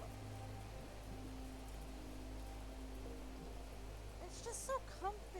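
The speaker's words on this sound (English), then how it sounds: "listening to the rain fall" Rain falling in the video game Planet Crafter, a soft, steady hiss of drops under a low ambient drone, quiet throughout, with a couple of brief brighter splashes near the end.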